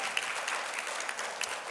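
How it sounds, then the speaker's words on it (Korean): A church congregation at a Sunday worship service breaking into applause, a dense steady wash of many hands clapping together for a brief moment. "우리 하나님께 영광이 박수 올려요."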